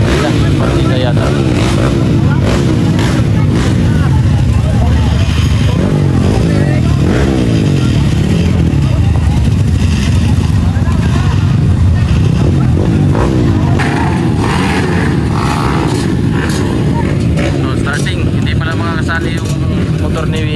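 A 250cc motorcycle engine runs loud and close, a steady throbbing drone with gritty clatter that holds for about twenty seconds, with voices talking over it.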